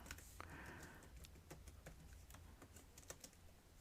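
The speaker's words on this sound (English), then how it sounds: "So I'm going to type in answer," Quiet, close keystrokes tap on a computer keyboard in a steady, slightly irregular rhythm of light clicks over a low background hum.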